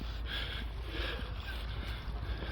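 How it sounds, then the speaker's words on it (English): Water washing and lapping steadily, like small waves rolling in close by, from the wake of a passing small boat, with a faint wind rush over the top. "The waves coming in from that little boat."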